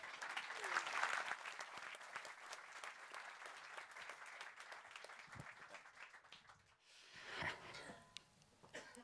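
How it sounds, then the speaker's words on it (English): Audience applause for a speaker named Ben on stage at a freedom forum, a steady wash of clapping from a crowded hall that fades and swells again near the end, with a brief voice at the close. "big round of applause."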